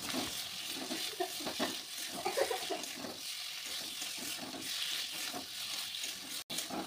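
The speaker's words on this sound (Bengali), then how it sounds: "এখন ভেজে রাখা আলুটা দিয়ে আরও কিছুক্ষণ কষিয়ে নেব।" Fried potatoes sautéed in a spice paste in a pan while cooking a village-style fish curry, giving a continuous soft sizzle with scraping stirs, fairly faint and steady, with a brief dropout near the end.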